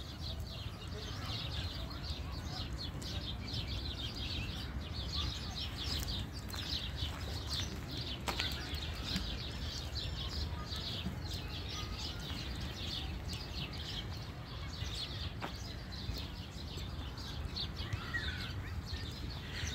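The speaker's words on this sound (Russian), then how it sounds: "Пташки щебечут." Birds chirping outdoors on an evening under lit street lamps, small bright tweets scattered faintly over a steady low hum of ambient noise, with no voices.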